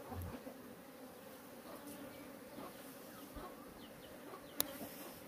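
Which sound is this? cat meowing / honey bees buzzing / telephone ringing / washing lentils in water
honey bees buzzing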